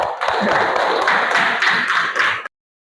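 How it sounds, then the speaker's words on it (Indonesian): Applause from an audience at a teaching performance assessment, a steady broadband clatter of many hands for about two and a half seconds, then abrupt silence. "Ya, tepuk tangan."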